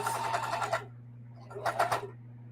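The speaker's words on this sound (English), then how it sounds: "So now I'm sewing through 4 thicknesses. You hear it?" A sewing machine stitching slowly through four layers of fabric on a camo tote bag, heard as two short whirring bursts with a steady low hum in between.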